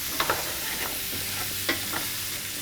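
Carrots and potatoes fry in a skillet beside chicken thighs, a constant hissing sizzle with a few quiet scrapes as they are stirred, fairly soft and without voices.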